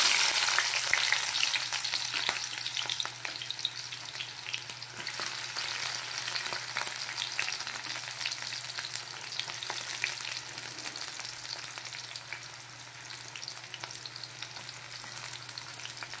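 Green chillies and onion frying in oil, a steady close sizzle with occasional stirring scrapes, continuous and fairly loud, no talking.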